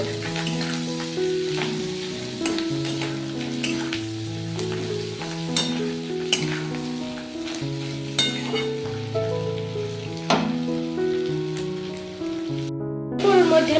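Tomato and green chilies frying in a pan during a Bengali fish egg curry, with a steady sizzle running throughout under a layer of background music and occasional sharper stirring clicks.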